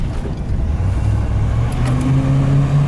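A 1989 Ford F-350 XLT Lariat 4x4 crew cab truck driving, its engine a steady close low rumble that rises slightly in pitch as it accelerates.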